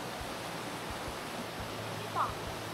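A swollen waterfall on a mountain stream during high water roars as a steady, dense broadband rush, with a faint brief chirp partway through.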